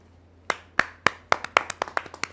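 Applause at a Hindi poetry gathering welcomes a poet, heard as a run of sharp, distinct claps that quicken slightly and come fairly close.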